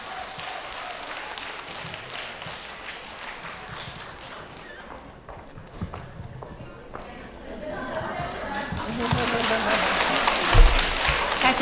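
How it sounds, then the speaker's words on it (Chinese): Audience applause at a Montreal Chinese New Year gala welcoming a Peking opera performer, starting with scattered clapping under a voice and swelling into fuller, louder applause toward the end. "来，掌声欢迎。"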